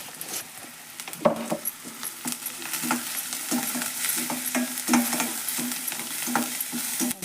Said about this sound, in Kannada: ಎಣ್ಣೆ ಒಳಗೆ ಫ್ರೈ ಆಗಲಿರೋದು ಉಳ್ಳಾಗಡ್ಡಿ, ಅರಿಶಿಣ ಪುಡಿ.